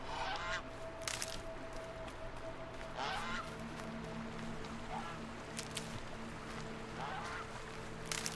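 Ducks or geese honk and call repeatedly in bursts over a steady ambient hum in the video game Horizon Zero Dawn, fairly close and moderately loud.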